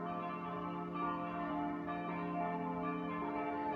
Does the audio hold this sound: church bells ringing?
yes